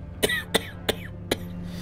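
Four sharp, loud coughs in quick, uneven succession, close and isolated, each a short harsh burst with a brief gap between.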